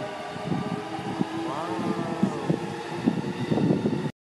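Train passing near a railway station in Japan, a continuous rumbling rush with a rising and falling whine in the middle, steady and fairly loud with wind buffeting, ending abruptly.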